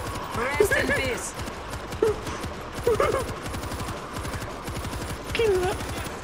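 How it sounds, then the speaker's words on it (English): A helicopter's machine gun firing in a zombie video game set in Moscow, a rapid continuous rattle of shots running under excited voices talking over it. "Heli machine gun."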